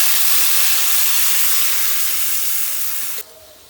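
Water poured into a hot pan of cauliflower, potato and egg curry sets off a loud, steady steaming hiss that fades slightly, then drops off abruptly near the end, leaving a quieter bubbling.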